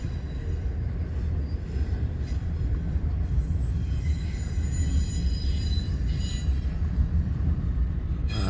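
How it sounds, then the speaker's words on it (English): A Union Pacific snow shuttle train rolls past on the former C&W main line near Fremont, Nebraska, a steady low rumble of wheels and cars with faint high squeal, sustained and moderately distant, no voices. "This train was a snow shuttle."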